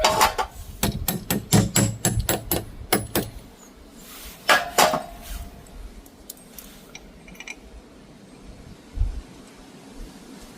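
Fixings being tapped into place while cottage shutters are fitted: a quick run of about a dozen sharp, close hammer taps, a pause, a few more taps, then quiet background with a faint knock near the end.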